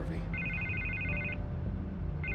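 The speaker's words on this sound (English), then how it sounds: "I can't get the phone to stop ringing." A telephone rings in Batman: The Telltale Series, its electronic trill sounding in one long burst and starting again at the end, clear and close over a low background.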